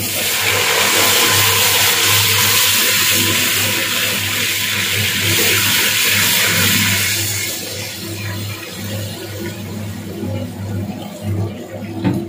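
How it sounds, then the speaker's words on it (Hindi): Water pours steadily into a cooking pot for chicken haleem, a loud, hissing splash that runs for several seconds and then stops, leaving quieter kitchen sounds. "उसके बाद हमने पानी डालना है।"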